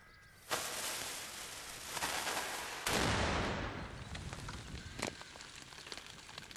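A cannon fires a sabot-fitted shot at a thick target of strong Douglas fir: a sharp loud blast lands near the start, followed by a second heavy burst and a long rumbling decay with scattered impacts.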